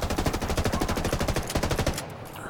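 Rapid automatic gunfire from the video game Ghost Recon: Wildlands rattles in a steady, loud burst of about two seconds, then cuts off into a quieter tail.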